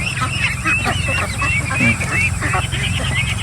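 Farm ducks, kept on developed farmland, quack and honk continuously at close range, a busy flock chorus with someone talking over it.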